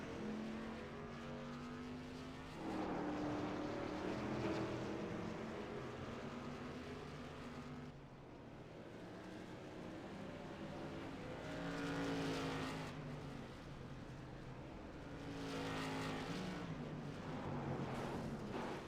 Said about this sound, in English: I just don't think they can hear over these loud motors, to be honest.